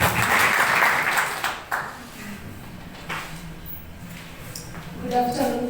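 Applause rises at a university staff union general meeting, loud and dense for about a second and a half, then thins into scattered claps and room noise as voices start up underneath.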